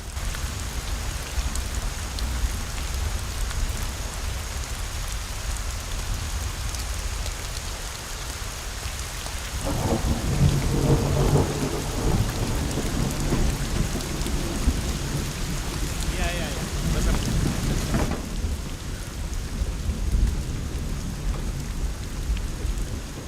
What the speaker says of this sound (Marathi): पाऊस पडतोय यात